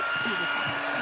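A heat tool blows steadily at close range while heating a card-making project, a brief continuous whirring hiss with a voice speaking faintly under it.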